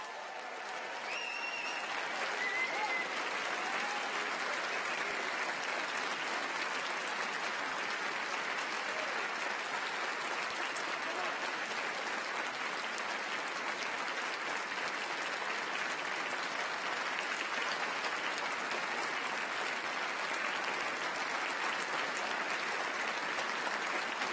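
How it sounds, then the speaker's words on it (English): A large audience applauds graduates at a winter university graduation ceremony, a sustained, dense wash of clapping that rises within the first couple of seconds and holds steady and loud for over twenty seconds, with no voices over it. "can we now give our graduates a cracking round of applause"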